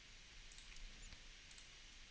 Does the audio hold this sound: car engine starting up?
no